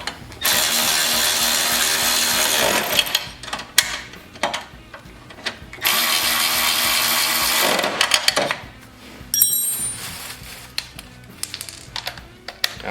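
A power tool on a Toro CCR 3650 snowblower tightens screws on the ignition coil in two long, loud whirring runs, with clicks and metallic handling sounds in between.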